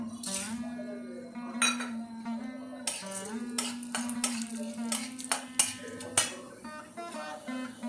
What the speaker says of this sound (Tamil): இப்போ கடலை பருப்பு போடுறேன்